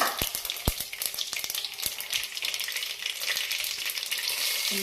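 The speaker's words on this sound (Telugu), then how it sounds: "చూడండి ఆయిల్ వేడెక్కింది. ఆవాలు, జీలకర్ర" Mustard seeds and cumin fry in heated oil before brinjal curry, crackling and popping in rapid sharp bursts over a continuous sizzle, close and moderately loud.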